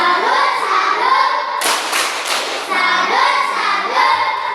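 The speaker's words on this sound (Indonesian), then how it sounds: "Tepuk salut" A primary school class in Merauke claps together in a short, loud burst of about a second during a 'tepuk salut' routine, with children's and a teacher's voices before and after.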